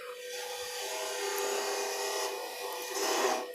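A 3/8 inch gouge cuts a cove into a wooden candlestick spinning on a lathe, giving a steady close scraping rasp that swells and eases over a few seconds.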